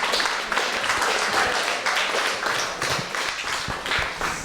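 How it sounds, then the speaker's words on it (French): An audience at a speaking-competition final applauds, with dense clapping carried along by sharper individual claps in an uneven rhythm that holds for several seconds. "Là, vous pouvez applaudir."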